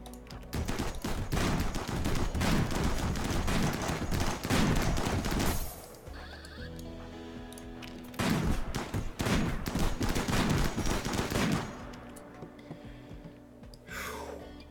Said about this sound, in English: Even when the zombies had gotten through, they were still shooting.